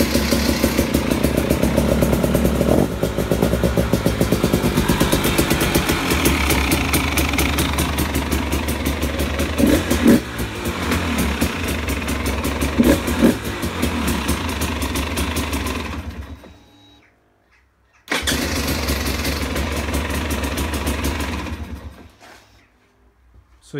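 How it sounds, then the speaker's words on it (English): A 2018 KTM EXC 250 TPI fuel-injected dirt bike running in a garage, its engine buzzing loud and close, dropping out around sixteen seconds, firing back up briefly and then cutting off again near the end. "So I'm going to turn the bike on now for you."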